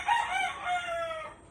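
A gamefowl stag crowing once in a single drawn-out call, fairly close and clear, in a backyard breeding area.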